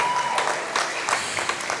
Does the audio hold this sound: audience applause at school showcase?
yes